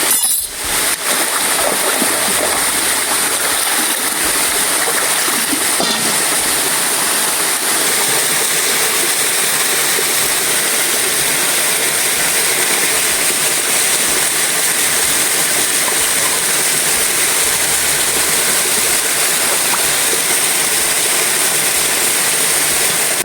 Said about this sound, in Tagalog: gusto ko marinig yung agos ng tubig na galing dun sa Busay